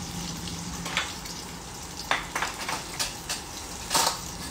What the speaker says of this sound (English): So I've got my eggplant sauteing here.